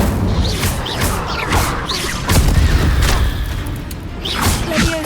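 Fire spells in Hogwarts Legacy go off as a series of whooshing, thudding bursts that crash and boom one after another over a dense, loud game soundtrack.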